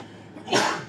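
A single sudden sneeze bursts out close by in a quiet indoor room during a computer training class, preceded by a faint intake of breath and trailing off quickly.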